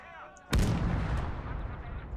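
An artillery gun fires in a war video game, one loud booming shot that rolls into a long rumbling tail, preceded by faint background noise.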